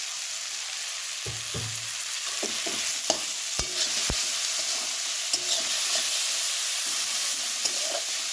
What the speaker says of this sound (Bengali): লবণটাকে একবারে কষিয়ে নিচ্ছি।